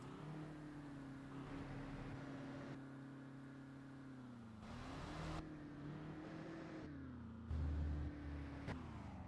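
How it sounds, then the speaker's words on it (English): Truck engine in the TruckersMP driving game, a steady low drone whose pitch swells and falls as the engine revs, fairly quiet with a louder thump near the end. "I heard you revving it."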